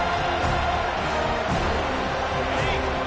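Home stadium crowd in a football video game, a dense continuous roar swelling slightly in waves as the defense lines up on third down, loud and unbroken throughout.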